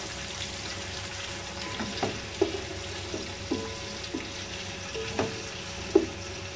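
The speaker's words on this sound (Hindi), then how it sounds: "प्याजों को लाइट गोल्डन होने तक पकाएंगे।" Onions frying in a pan for chicken yakhni pulao, a steady sizzle with occasional stirring scrapes and soft pops, close and moderately loud, with no talking.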